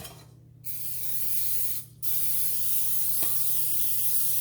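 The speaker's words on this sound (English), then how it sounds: "I'm gonna spray my pan here" Cooking spray hisses from an aerosol can onto a pizza pan in two bursts, a short one and then a longer steady spray, loud and close.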